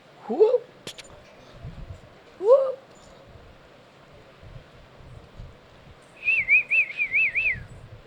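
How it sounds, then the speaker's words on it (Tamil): Sparrows and cuckoos calling outdoors: a couple of short rising chirps early, then a quick run of bright warbling notes near the end over faint background noise. "வீட்டு பக்கத்தில் நல்ல குருவி குயில் எல்லாம் பறவைகளாக சத்தம் கேட்கு"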